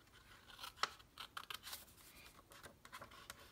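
Scissors trim a printed paper envelope template, giving quiet, irregular snips and rustling paper with one sharper cut, close by and alone.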